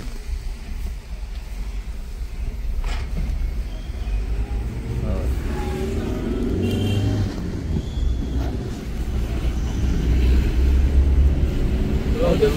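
Road traffic rumbles steadily near Chavdar Tale in Mahad, with vehicles passing close by in a continuous low drone that swells slightly toward the end, and faint voices mixed in beneath the engine noise.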